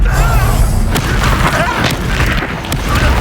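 Confringo spell explosions in the Hogwarts Legacy video game, a run of loud booming blasts and crashes that follow one another over a few seconds amid dense game combat noise.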